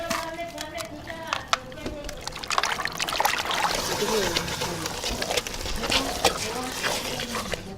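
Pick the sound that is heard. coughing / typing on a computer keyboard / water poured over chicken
water poured over chicken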